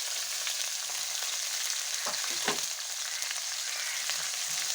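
Sliced shallots, onion and curry leaves sautéing in oil in a pan for a duck curry, giving a steady, close sizzle with a few brief stirring scrapes.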